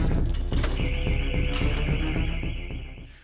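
A building fire alarm rings with a sustained high electronic tone for about two seconds. It sits over a busy, dense layer of other sound and fades out at the end.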